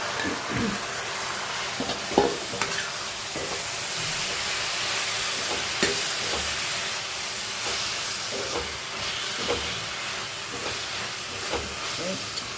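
Spinach and tomatoes fry and are stirred in a pan: a steady close sizzling hiss with occasional scraping stirs and clacks throughout.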